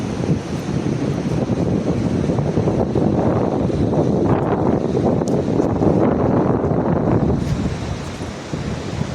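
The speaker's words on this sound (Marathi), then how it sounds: "सुंदर असा समुद्र किनारा." Waves and wind on Kihim beach, a rocky seashore at low tide, heard as a loud continuous roar of surf with wind buffeting the microphone throughout, easing slightly near the end, with no voices.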